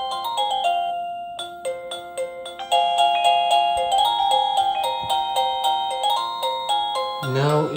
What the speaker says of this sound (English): Let's go ahead and ring the bell and see what's gonna happen.